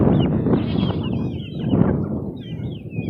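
Backyard chickens, including a silver laced hen, cluck and chatter close by in soft, overlapping bursts, with higher squawks and trills rising toward the end.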